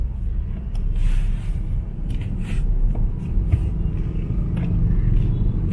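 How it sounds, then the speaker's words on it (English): Road traffic in the Philippines makes a low, steady rumble of cars and other vehicles, with the engine drone rising and falling slightly as they pass, and no speech. "So traffic."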